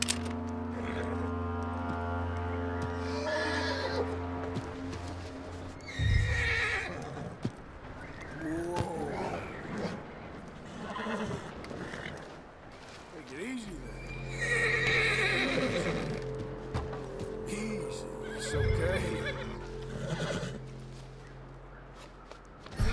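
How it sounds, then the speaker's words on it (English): Horses in the video game Red Dead Redemption 2 whinnying repeatedly over the clatter of hooves and game sound effects, the neighs rising clearly and loud near the start and again later. "I really like the horses in this game."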